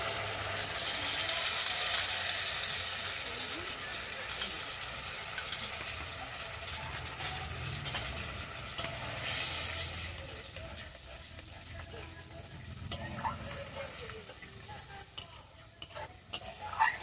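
Sour yogurt is stirred into hot spiced oil while cooking posto bora dom. A soft frying sizzle and hiss sits under repeated scraping stirs, with a brighter burst of sizzle at the start. It stays close and moderate in loudness.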